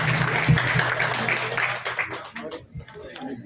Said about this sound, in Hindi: जोर से तालियां बजाइए दोस्तों, तालियां कम नहीं होनी चाहिए।